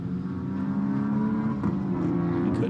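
TC America race cars, including a blue Mini, lapping the Virginia circuit, a sustained loud engine drone with rising revs and a brief pass-by swell near the end, no voices over it.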